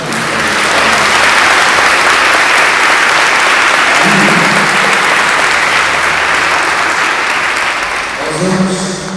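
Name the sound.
congregation applauding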